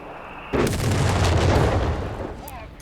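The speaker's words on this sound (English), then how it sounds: "these Jaegers are getting hit by the mortar" In a Company of Heroes 3 match, a mortar round lands on Jaeger infantry with a sudden heavy boom that rumbles and fades over two seconds.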